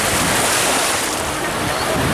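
Waves wash and splash along the shore of the Boreal Sea on a Spanish holiday, a loud, dense, continuous rush of surf blurred with wind noise on the microphone.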